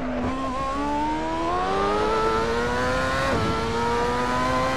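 A Formula 1 car in the racing game Assetto Corsa on the Nürburgring GP circuit, driven with a Logitech G27 wheel, screams loudly with engine pitch climbing steadily, then briefly dips at a gear change before rising again.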